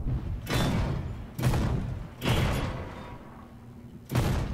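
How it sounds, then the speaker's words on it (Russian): Shell impacts glancing off a German heavy tank in a video game: four heavy, separated metallic thuds with short ringing tails, evenly spaced and close. "Звук рикошета, похоже, есть."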